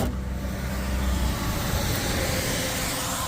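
An obs truck with an LS engine swap tries to start, a loud, continuous rumbling engine and road-vehicle roar close up, steady throughout with no voices.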